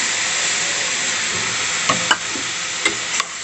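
Halwa with milk and sugar being stirred in a pan: a steady, loud sizzling hiss, with a few soft scraping knocks of the spoon toward the end.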